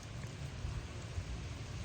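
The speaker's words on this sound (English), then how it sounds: "I hear the rain coming." Steady broadband hiss of rain approaching through trees outdoors, a continuous wash of drops with low rumbling underneath, moderately loud and without any voices.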